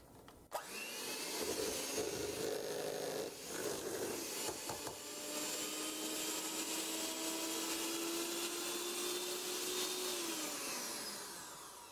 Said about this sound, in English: Running the mixer like that on low and just slowly bringing it out will help just bring everything off of them.